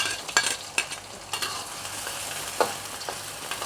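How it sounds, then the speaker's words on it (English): Garlic, shallot and ginger hitting hot oil, sizzling and crackling steadily while being stirred, with scattered sharp pops and scrapes, close and fairly loud, no voices. "Okay, the oil is hot. Then I add in the garlic, shallot,"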